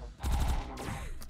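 Gunfire in the Sots: The Pit game comes as a quick burst of sharp shots followed by a ringing, fading tail, close and fairly loud, with no talk.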